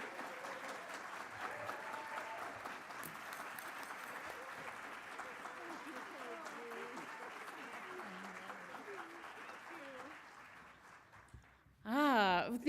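Warm, sustained audience applause fills a breakfast summit hall in Oregon as a lieutenant governor is welcomed, holding steady for about eleven seconds before it stops and a voice begins speaking up close.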